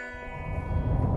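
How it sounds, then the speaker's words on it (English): A steady tonal hum from the pedestrian alert of a 2020 Honda CR-V Hybrid, a sustained harmonic drone that swells slightly over about a second, heard close and alone. "the hybrid also alerts pedestrians with a distinct noise that sounds like this"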